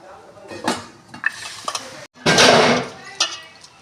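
A dough of ground peanut, cumin, sesame and garlic is mixed by hand in a vessel for sarva pindi. Close, irregular squelching and scraping bursts build to one long, loud stretch, with light clinks of the pot.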